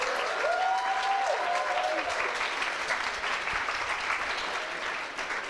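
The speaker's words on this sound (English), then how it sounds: "let's give them a huge round of applause to congratulate them on their accomplishments" A crowd applauds at a coding bootcamp demo day, sustained dense clapping with some cheering that fills the room evenly for several seconds without letting up.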